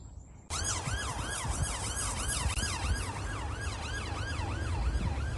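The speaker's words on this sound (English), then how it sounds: "You can see the police with blue flashing sirens" A police car siren wails in a rapid, continuous up-and-down pattern, loud and close, over a rumbling engine after a brief quieter start.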